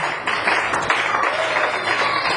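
Church congregation applauding and cheering loudly in praise during a worship service, a steady dense wash of clapping that holds for the whole span with a few louder bursts.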